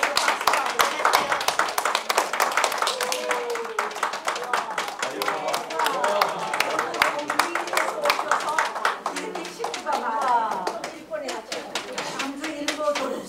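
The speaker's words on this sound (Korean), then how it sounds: "광주 일본에서 박수하고 계세요" Guests at a Korean art song concert clap while being introduced, rhythmic uneven hand claps near and close, mixed with chatter and voices talking throughout.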